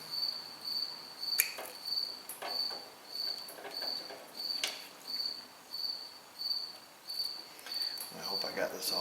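Crickets chirp in regular pulsing bursts at night, steady and fairly close, with scattered clicks and knocks from truck headlight wiring work around them.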